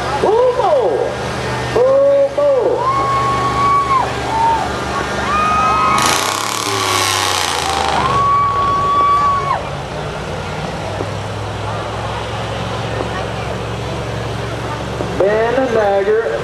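At a Ste. Genevieve County, Missouri fair truck and lawnmower pull, a pulling tractor's engine roars loudly nearby and then settles into a lower drone, while an announcer talks over it.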